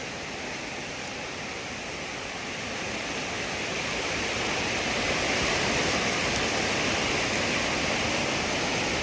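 Floodwater of a swollen Konkan river in monsoon spate surges steadily near Kolamb bridge, a dense, continuous roar that builds slightly louder partway through, with no voices over it.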